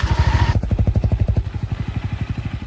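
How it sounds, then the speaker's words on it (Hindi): A Bajaj Pulsar NS400 motorcycle fires up and settles into a steady, rhythmic exhaust pulse at close range, loud and alone with no talking. "जब पल्सर NS400 स्टार्ट होती है तो उसकी रिफाइंड एग्जॉस्ट नोट काफी इंप्रेसिव लगती है"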